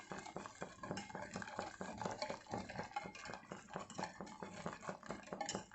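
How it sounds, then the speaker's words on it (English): Milk powder mixture for kulfi is whisked in a pot, making a continuous rapid scraping and clinking rhythm of whisk against metal. It is fairly faint and steady, and no one speaks. "I will whisk it nicely and boil for around"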